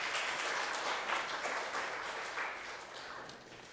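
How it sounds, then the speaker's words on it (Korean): A church congregation claps together to welcome a preacher at a Sunday service, a steady wash of applause that fades slowly over a few seconds with no speech heard. "우리 성사님 오실 때 환영하는 의미로 우리 박수로 환영하도록 하겠습니다."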